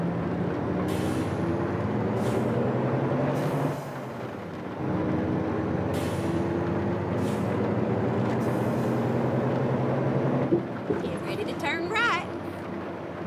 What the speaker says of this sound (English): You hear the sounds of this Mack engine.